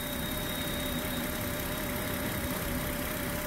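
A car engine runs at a steady idle after starting, a continuous low, even drone heard alone at moderate level with no change in pitch.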